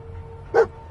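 Dogmeat, the dog in the video game Fallout 4, gives a single short bark that stands out clearly against a quiet background hum.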